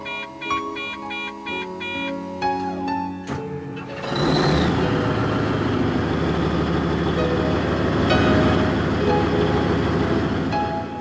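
A mine dump truck's diesel engine turns over and catches, then settles into a loud, steady, rumbling idle, with an electronic warning chime sounding first.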